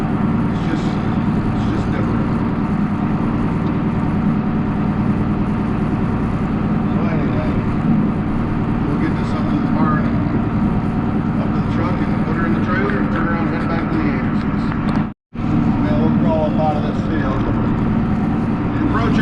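An articulated four-wheel-drive tractor being driven, its engine a steady, continuous drone with a brief cut near the end.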